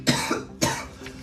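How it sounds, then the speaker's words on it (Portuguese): A person with a bad flu coughs twice in quick succession, close and sharp, with a fainter third hack trailing after. "Ele estava com muita tosse e teve até febre."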